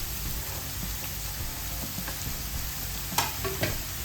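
Grated carrot sautéed and stirred in a pan over a steady low sizzle, with a few brief scraping clinks of a spoon near the end; no talking.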